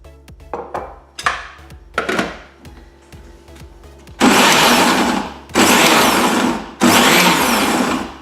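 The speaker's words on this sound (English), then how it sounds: "I have the okra all sliced up and I'm passing it through the blender" A kitchen blender pulses sliced okra with water in three loud, steady bursts, each stopped after a second or so, preceded by knocks and clatter of pieces being prepared.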